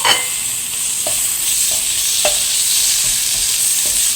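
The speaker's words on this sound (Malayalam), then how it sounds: "ഇനി ഇതിലേക്ക് നമുക്ക് നമ്മൾ എടുത്തു വച്ചിരിക്കുന്ന തക്കാളി ആഡ് ചെയ്ത് കൊടുക്കാം." Chopped tomatoes hit hot oil in a pan for a Kerala-style chicken curry, giving a steady loud sizzle and fry with a few soft stirring scrapes and spoon taps, no voices.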